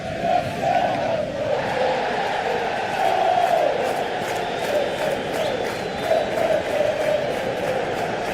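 Stadium crowd noise from a Manchester United vs Leeds United match in the PES 2021 football video game, a loud continuous roar with swelling cheers throughout.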